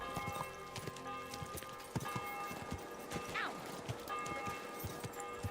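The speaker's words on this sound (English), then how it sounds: "The horse is just running everyone over." Horse running through a crowd in Kingdom Come Deliverance 2, quick clip-clop hoofbeats over a busy crowd murmur with a brief whinny, fairly quiet and continuous.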